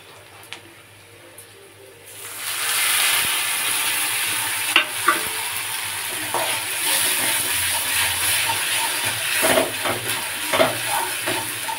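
Tomato paste hits a pan of frying garlic paste after a quiet start, setting off a loud hissing sizzle that carries on steadily, with scattered scrapes and clicks of a spoon stirring the mixture.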